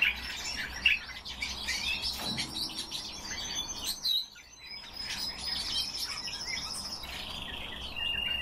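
A common starling (Sturnus vulgaris) sings a varied run of chirps, whistles and rapid chatter. Bright, close phrases are broken by a short pause near the middle, then resume over a soft background hiss.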